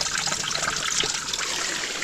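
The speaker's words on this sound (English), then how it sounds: "So we're getting quite a bit of water dripping in behind now." Water drips and trickles in behind wax sealing on rock at a micro hydro intake in winter, a steady soft wash of running water throughout with no voices.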